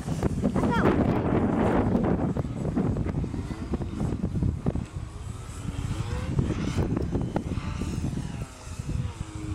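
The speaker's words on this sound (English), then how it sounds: "The darn wind." Wind buffeting the microphone at a model aircraft flying field, a constant low rumbling roar mixed with the buzz of a propeller-driven plane, with voices talking over it.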